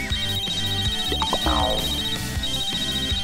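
A mobile phone rings with a steady electronic ringtone in a comedy skit, a loud repeating melody that plays throughout with little else around it.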